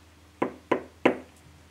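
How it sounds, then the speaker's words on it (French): Three firm knocks on a door, evenly spaced and close, sharp and distinct against a quiet background. "Et elle frappe à la porte."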